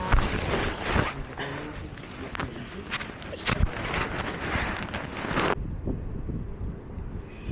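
Gusty wind rumbles and buffets the microphone at a beach campsite at Pantai Menganti, Indonesia, with bursts of roaring noise that suddenly drop away near the end.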